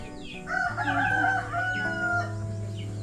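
A rooster crows once, close and clear, in a single drawn-out cock-a-doodle-doo with a low steady hum underneath and a faint cluck afterward.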